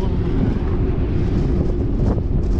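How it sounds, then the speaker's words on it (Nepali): A cold wind blows outdoors, buffeting the microphone with a constant, loud, low rumble and no clear gaps for the whole stretch. "चिसो हावा चलेर"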